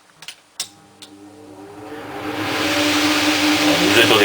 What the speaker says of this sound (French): Ce que vous allez entendre, c'est le bruit de l'aspirateur pour les graisses.